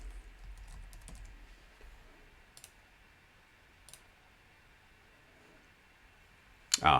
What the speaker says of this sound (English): Helps if I type a person's name.